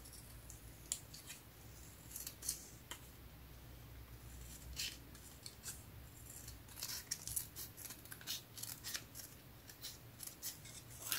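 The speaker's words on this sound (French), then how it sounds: "Je vais faire comme ça au ciseau" Scissors snip repeatedly through paper card for a handmade craft card. The cuts are faint and close, with irregular clicks and rustles over a low background hum. No one speaks.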